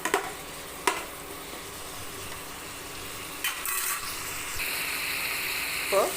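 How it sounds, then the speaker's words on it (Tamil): Onions and tomatoes sauté in a pan for okra thokku, giving a soft, steady sizzle with occasional stirring clicks and scrapes, fairly faint and close. "இந்த ரெண்டு தக்காளி வெங்காயம் இதெல்லாம் நல்லா வதங்கட்டும்"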